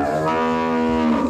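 Cattle mooing in a drought-hit area where surface water has dried up, a single long, loud, close low moo held steady for the whole moment with no talk over it.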